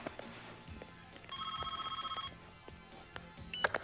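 An office telephone line rings with a steady electronic trill, a pulsing burst of about a second near mid-loudness, followed by a short chirp, with no talking.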